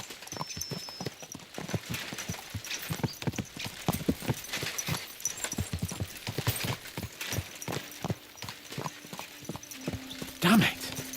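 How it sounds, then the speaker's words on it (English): Horses' hooves clip-clop steadily in a quick, close rhythm as they are ridden, with a brief whinny near the end and someone talking over the hoofbeats. "Let's really spur these horses on, eh?"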